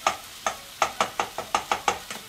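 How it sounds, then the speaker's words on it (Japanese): Tomatoes being stir-fried and crushed in a pan for a black pepper pork curry, heard as a steady series of about eight soft, evenly spaced squashing stirs over a faint sizzle, with no talking. "押しつぶしながら混ぜ合わせます"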